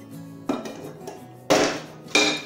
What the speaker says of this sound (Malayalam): ഞാൻ പാത്രം ഒന്ന് തുറന്നു കൊടുക്കുന്നുണ്ട്.